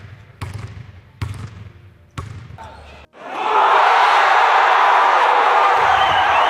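AI-generated sound effects: a basketball bounces three or four times with hard, echoing thuds, then a loud crowd-like roar of noise takes over.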